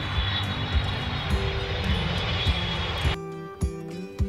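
An airplane engine drones steadily at close range, then cuts off abruptly near the end, leaving a few faint thumps.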